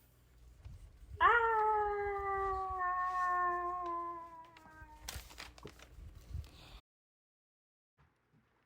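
A lion in a Lego Bible story about Daniel in the lions' den gives a long, loud, cat-like growling howl. It tails off into scattered rustling and clatter before cutting to silence.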